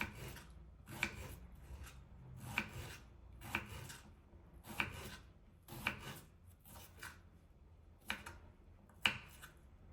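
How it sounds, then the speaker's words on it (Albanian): Knife chopping cucumber into very small cubes on a board, a soft, close series of evenly spaced taps, about one each second, alone and quiet. "E coptojmë kështu në copsa shumë të vogla, në katrore të vogla."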